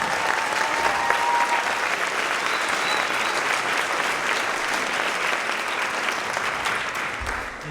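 An audience at a school district music festival gives a long, even round of applause welcoming the president of an arts foundation to the stage: thick, continuous clapping, loud and unbroken for nearly eight seconds.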